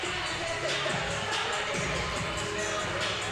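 Steady murmur of a large indoor crowd at a high school basketball game against the Madisonville Mustangs, a dense continuous wash of chatter and shuffling with no distinct cheers.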